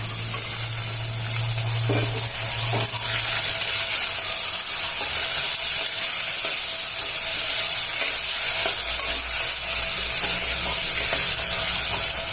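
Tomatoes and a green chili-ginger paste fry in a pan for Marathi-style egg biryani, giving a steady, close sizzle with occasional stirring scrapes; no one speaks.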